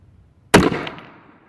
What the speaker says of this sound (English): It appears to have fired and cycled itself back.